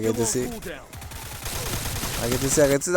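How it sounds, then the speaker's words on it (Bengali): MAC-10 submachine gun bursts in a Counter-Strike ranked match, with rapid shots crackling in short runs under someone talking over the gameplay for most of the span. "একটা ওয়ান হেডশট দিলাম ম্যাক-10 দিয়ে"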